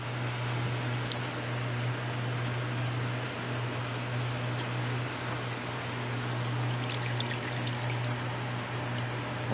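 A steady hiss of spray soaking broccoli seeds (Waltham 29) with hydrogen peroxide solution before they go under a blackout dome, continuous and close with a low hum beneath and no voices.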